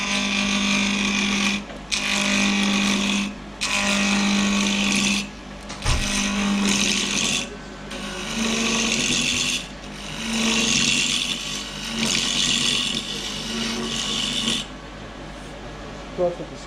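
A wood lathe makes a roughing cut with a gouge or skew at a woodturners' club meeting, a steady loud whir broken into several long passes with brief gaps, and a person talking over it.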